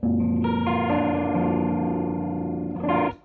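An electric guitar chord rings through a Foxx foot phaser pedal set to a fast sweep, giving a rapid whirring, fan-like warble over a sustained tone, followed by a brief second strum before it cuts off.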